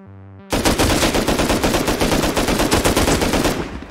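Rapid automatic gunfire in the survival game Rust, loud and sustained after a brief quiet start, with dense repeated shots at a near, steady rhythm for about three seconds before tapering off.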